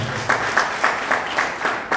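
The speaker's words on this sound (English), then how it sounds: "A round of applause for our Southwest Chairman." An audience at a meeting applauds with a steady crowd of clapping, punctuated by a regular beat of accented claps about every quarter second, fairly close.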